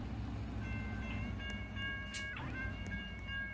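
A Roblox train rumbles along on a Northern California rail map, a steady low rolling drone under sustained tonal whines and a brief bright clank, with no voices.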